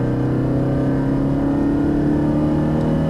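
Ferrari 360 at full throttle on the Brands Hatch circuit, a loud, steady high-revving engine drone held flat out without a break, heard from close by.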